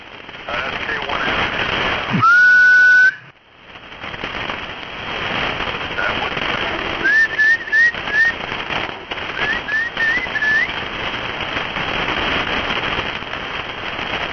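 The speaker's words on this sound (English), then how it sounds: "Hell, that's a sick whistle." A person whistles over an amateur radio link, with one sustained steady tone early on and later several short rising chirps, set against constant hiss and crackling noise.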